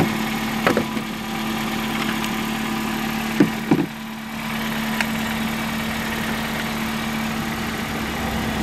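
A small Toyota Yaris idles steadily after a jump start from a Gooloo GP4000 starter pack, the engine humming evenly with a few brief knocks and clunks early on.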